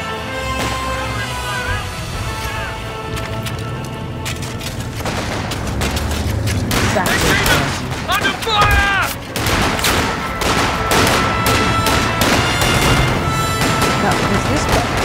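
Heavy artillery and gunfire boom across a World War trench battle in a video game, with a dense fusillade of shots and blasts building and growing louder, under music and shouted talk.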